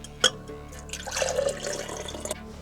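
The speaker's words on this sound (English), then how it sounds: "I got my jar of hot water, so what I'm going to do is pour some hot water directly in here" Hot water poured from a jar into a container, a short trickling splash of liquid after a small clink, close and fairly quiet with no talk.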